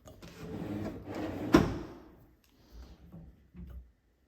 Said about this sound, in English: And those were custom made solid wood cabinets. Anti-slam.